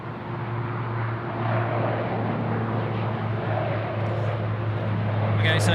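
An American Airlines Boeing 787-9 on a Sydney Airport runway gives off a steady jet engine rumble with a low constant hum, and a brief higher noise comes near the end.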